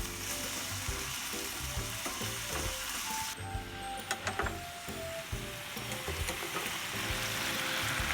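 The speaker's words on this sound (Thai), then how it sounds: "ผัดดอกกระหล่ำเสร็จแล้วก็ปิดไฟ" Cauliflower stir-fried with pork in a pan, a steady close sizzle with clinking spatula scrapes and stirring knocks throughout.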